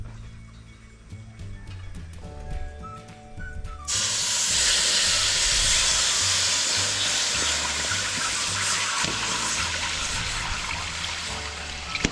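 Coconut milk poured into a hot cooking pot, a sudden loud hiss and sizzle bursting in after a few seconds of quieter kitchen sound and music, then settling into a sustained steamy rush.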